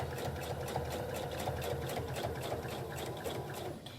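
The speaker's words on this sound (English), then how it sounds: "So we're gonna sew down here." A sewing machine stitches a fabric face mask, running at a steady close whirr with a fast even needle rhythm that eases off near the end.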